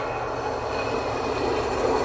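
Train rolling along a nearby track, a steady broadband rumble and hiss of rail cars passing at moderate distance, continuous with no talk.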